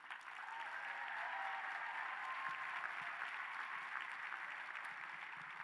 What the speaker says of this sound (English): let's give a loud, so they can hear us, round of applause for our two MCs, Nicole and Toyosi.